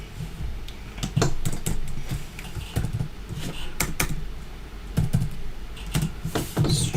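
Someone types a short code comment on a computer keyboard, giving close, uneven bursts of key clicks with brief pauses between them and no talking.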